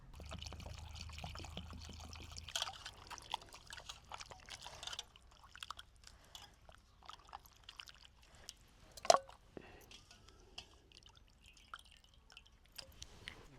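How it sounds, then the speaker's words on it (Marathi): Mutton pieces being rinsed with water in a clay pot, quiet splashing, dripping and squishing sounds coming in irregular bursts close by, with one sharper splash partway through. "मटण धुवून घेतलं मस्त 2-3 पाण्यानं"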